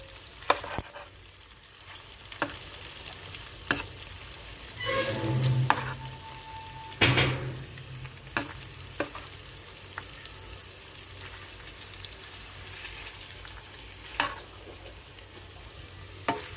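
Fish pieces frying in a pan, a steady low sizzle punctuated by sharp clicks and scrapes as the pieces are turned, with a louder burst of spattering midway; no talking.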